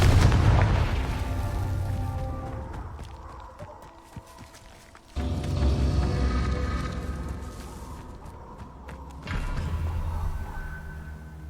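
Confringo spell blasts in the Hogwarts Legacy video game, loud booming bursts within a dense, continuous battle din, with sharp jumps in intensity around the midpoint and again near the end.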